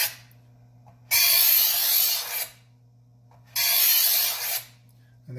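A knife is drawn twice through an electric ceramic-disc sharpener, each pass a harsh grinding rasp lasting over a second, over the steady hum of the running motor between strokes.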